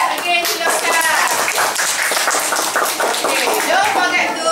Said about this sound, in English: Give a big clap again to yourself.